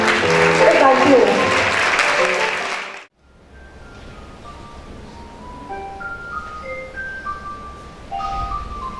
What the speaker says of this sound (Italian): Grazie Sofia, un grandioso applauso